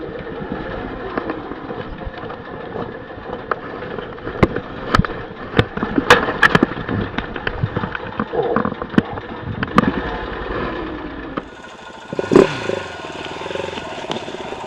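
A KTM 690 Enduro motorcycle rides along a Hawaiian beach, its single-cylinder engine loud and close, rising and falling with throttle blips and sharp bursts over a constant rush of wind.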